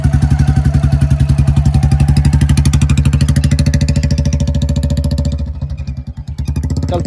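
Royal Enfield Bullet motorcycle engine running loud and close, a steady rapid thump that keeps up a strong beat, then dips and stumbles briefly near the end before picking up again.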